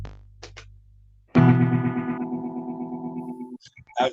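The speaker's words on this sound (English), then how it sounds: "Yeah, that's a crazy echo." A microphone voice is run through a heavy echo effect during a late-night live stream: a short burst of processed, distorted sound that rings on and decays over about two seconds, with brief voice fragments before and after.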